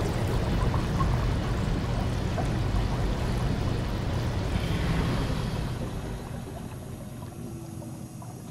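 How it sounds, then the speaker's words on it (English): Loud, dense rushing water roars steadily in the video game SOMA, a broad continuous wash that eases off slightly toward the end, heard alone without voices. "This water's so loud, I can barely hear myself right now."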